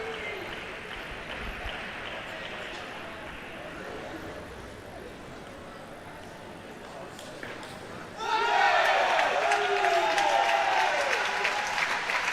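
Crowd at a para table tennis championship match bursts into loud cheering and applause after a long set, following a stretch of commentators talking over quiet hall ambience.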